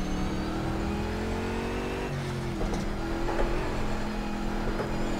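A racing car engine in Project Cars on the Nordschleife drones steadily in fourth gear at a constant pitch, with a faint scrape partway through.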